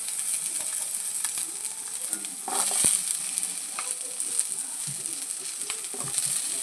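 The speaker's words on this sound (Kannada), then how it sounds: "ಕಾವಲೆ ಬಿಸಿ ಇಟ್ಟು ಸ್ವಲ್ಪ ಎಣ್ಣೆ ಹಾಕ್ತೇನೆ ಈರುಳ್ಳಿ ಈಗ ಫ್ರೈ ಮಾಡ್ಕೊಳ್ಳುವ" Onions fry in a little oil on a hot pan, giving a continuous crackling sizzle with scattered stirring clicks and one louder scrape midway, close and without speech.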